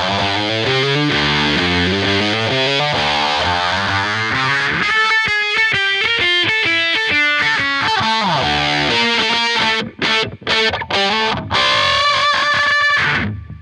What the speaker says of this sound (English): I chose to put the phase on the overdrive just because I wanted to not compromise on the kind of low